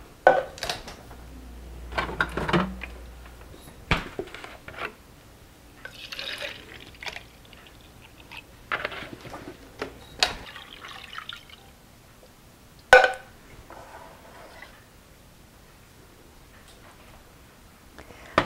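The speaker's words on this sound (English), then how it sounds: "I'm just going to add 1/2 can of milk, like I said, to loosen it up." Half a can of milk poured into a pot of soup for Swedish ground beef meatballs, heard as soft intermittent liquid splashes and drips with clinks of a can and pot, quiet and close, no talking.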